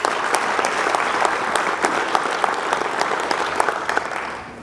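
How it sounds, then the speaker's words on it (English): A crowd claps in an audience hall during a community tour event, honoring a regional foundation's work with full, steady applause that trails off at the end. "How about a round of applause for all the great work that they do?"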